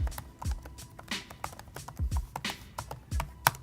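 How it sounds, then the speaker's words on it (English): Quiet, irregular clicking of keys typed on a 2024 HP EliteBook laptop keyboard, bursts of taps with brief pauses, close and soft. "I'm getting carried away using the keyboard there"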